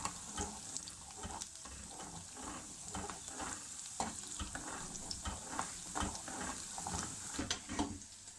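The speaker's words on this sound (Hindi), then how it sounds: "लहसुन अदरक का जो है वो जो तड़का है इसका तैयार हो गया" Garlic and ginger sizzle quietly in oil in a pan with green chillies while a utensil scrapes and stirs in irregular strokes, the frying hiss steady underneath.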